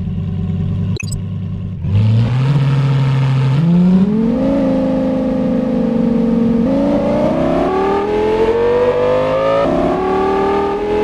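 Engine of a police car in a 3D ring-road driving game: a steady motor whose pitch rises in stepped gear changes while it accelerates, loud and close, alone with no talking.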